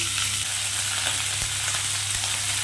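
Onion fries in hot oil in a loud, dense, unbroken sizzle with a low steady hum beneath and a couple of faint knocks.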